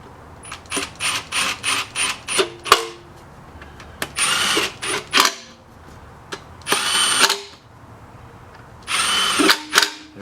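A power drill runs in repeated short bursts, driving the valve cover bolts home on a 2003–2010 Saab 9-3 2.0T, loud and close with brief pauses between each bolt.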